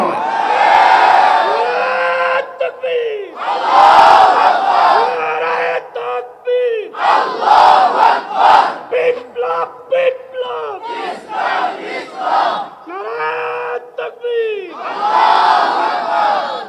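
A large crowd chants slogans in loud rhythmic bursts, a leading voice answered by mass shouted replies in repeated waves with short pauses between, close and powerful.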